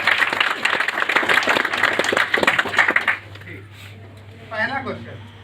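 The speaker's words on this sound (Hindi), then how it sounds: "तो ताली बजा दी, वरना जमाइए।" An audience at a business seminar breaks into brisk clapping under a speaker's voice for about three seconds, then it cuts off and talking continues alone.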